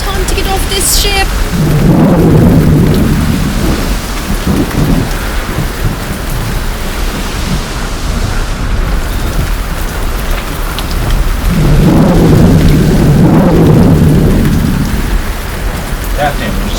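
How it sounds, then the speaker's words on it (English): Heavy rain pours steadily while rolling thunder swells twice, loud and close, over a constant hiss of downpour. "I think it sounds like a storm might be brewing."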